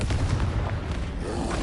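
An explosive spell cast in the wizarding video game Hogwarts Legacy gives a dense, booming blast with continuous low rumble across the whole moment, with no voices.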